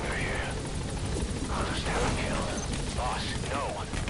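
A helicopter sets down in the stealth action game Metal Gear Solid V: The Phantom Pain, a loud, steady rotor roar filling the whole stretch with scattered voices and game effects layered on top.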